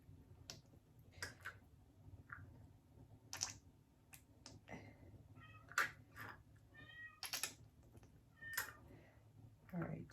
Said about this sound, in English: do you guys hear my little cat?